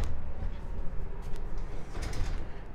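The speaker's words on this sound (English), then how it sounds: "And then you've got these sliding doors here for the closet." Sliding closet doors in a 2022 Keystone Alpine 3720MD luxury fifth wheel trailer make a short, low rumbling glide. A light knock comes near the end. The sound is close and fairly quiet.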